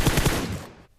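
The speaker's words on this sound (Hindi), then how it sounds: "ऐसे ही डराने के लिए मैं गोली चला देता हूँ गाड़ी पे" Rapid automatic gunfire aimed at a vehicle in PUBG Mobile, a loud burst of closely spaced shots that fades out after about a second.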